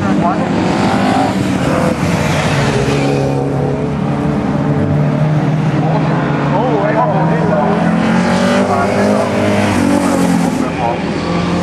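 A Mercedes race car roars around a circuit during a heat at Padborg Park, its engine a loud, continuous drone with shifting pitch as it passes, while a commentator talks over it.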